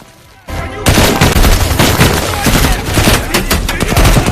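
Loud, dense bursts of rapid gunfire, close and continuous, with sharp repeated cracks overlapping for several seconds.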